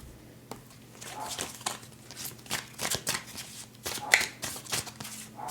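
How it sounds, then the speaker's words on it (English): Tarot cards are shuffled close up, a steady series of soft riffling and flapping bursts with low background hum and no talk. "Let me shuffle these cards."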